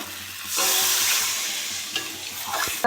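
Potatoes hit a pan of cooked spice masala and oil, bursting into loud, steady sizzling and frying with a few scraping stirs, after a quieter start.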